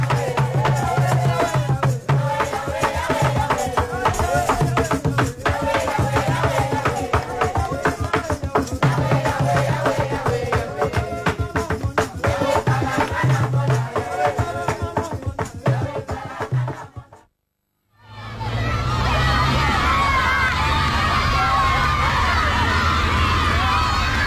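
A crowd at a church gathering in Congo acclaims and cheers in loud, sustained rhythmic waves, with a brief drop to near silence before the cheering resumes.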